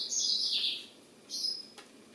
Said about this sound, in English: the birds are kind of distracting